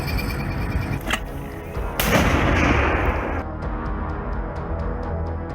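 Artillery fire in combat footage near Bakhmut, with a sharp distant boom followed by a heavier rumbling blast and a fading roar, then a faint rapid ticking continuing underneath.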